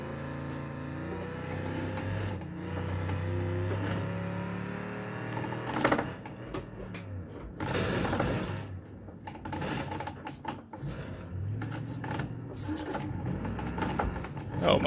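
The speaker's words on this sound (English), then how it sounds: "Hopefully, that kind of gave you a really good insight into what the force feedback is like." A Logitech G920 racing wheel's force feedback motor whirs and buzzes in fluctuating bursts, with mechanical clicks and rattles over a steady hum, close and continuous for the whole stretch.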